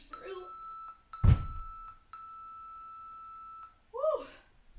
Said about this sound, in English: that beeping means we are done.